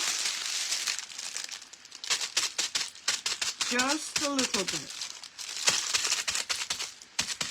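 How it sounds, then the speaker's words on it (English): Craft foil sheets crinkle and crumple in repeated crisp bursts up close, with someone talking intermittently over the rustling. "When you crumple it up, it releases so much better."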